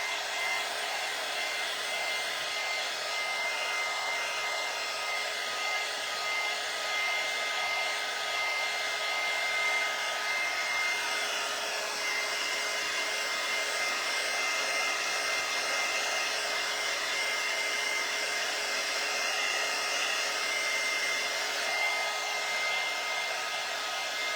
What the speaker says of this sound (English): I'm going to dry this really quickly